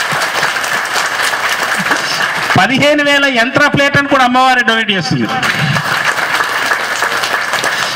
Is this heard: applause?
yes